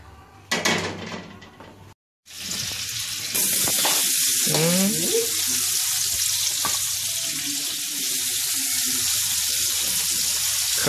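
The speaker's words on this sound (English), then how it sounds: "cook it in butter. That's all you gotta do. Cook it in butter." Shrimp cooking in butter in a pan start with a few clatters and a brief gap, then build into a loud, continuous close sizzle that holds steady to the end.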